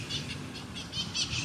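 Green parrots call outdoors in a string of repeated high, chirping squawks that stay fairly faint over a steady background.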